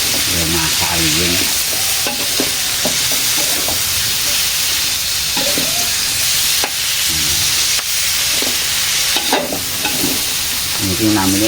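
Entong-entong salted fish dish cooking, a loud steady sizzle of frying overlaid with repeated scraping and stirring strokes of a utensil against the pan, close up and without talking.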